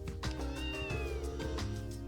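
A kitten meows repeatedly in the Trails from Zero video game, several short cat calls in a row over steady game background music, close and clear.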